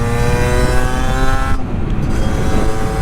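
A Sherco 50 SM motorcycle engine revs hard while riding, a buzzing high-pitched two-stroke drone close to the microphone that shifts slightly midway.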